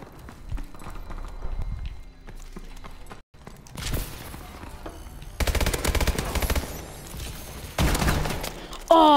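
Gunfire in Call of Duty: Advanced Warfare, with bursts of rapid automatic shots and single cracks in short clusters, loud and close, separated by quieter gaps.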